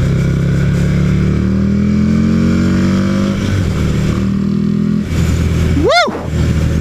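A 2007 Buell XB9S Lightning motorcycle revs and accelerates away, its deep engine note climbing and fading over several seconds before a sharp rising whine sweeps past near the end, loud and close.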